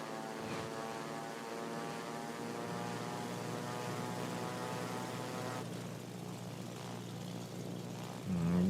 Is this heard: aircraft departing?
yes